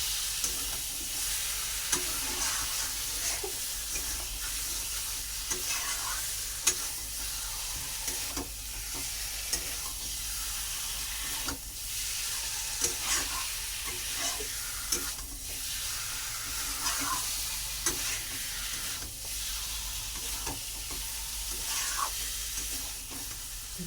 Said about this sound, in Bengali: চলো তাহলে আমি এখন কষাতে থাকি, কষিয়ে জল দিয়ে দেবো।